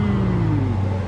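A 2018 Jeep Trackhawk with its stock exhaust revs loud and close for about a second, a deep engine roar with a slowly falling pitch and no talk over it.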